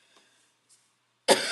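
One sharp, loud cough bursts out close by after a moment of near silence.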